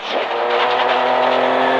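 A Ford Fiesta rally car on a 2022 Istanbul Rally stage, heard from inside the cabin, its engine screaming at high revs in a loud, sustained pull with a rising, gritty tone.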